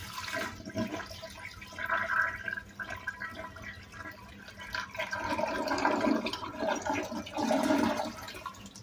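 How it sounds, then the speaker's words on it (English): Toilet flushing in a men's restroom with 1980s Mansfield Imperial and newer Kohler fixtures, a close, sustained rush and gurgle of water that swells, then trails off into refilling and drips. "Alright, let's give this another flush."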